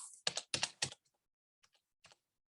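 Typing on a computer keyboard gives a quick burst of loud, close clicks, followed after a pause by a few fainter, scattered keystrokes.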